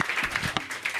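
Short burst of audience clapping for performer Juno at a live queer cinema show, a crowd of hands patting unevenly with a few sharper claps standing out.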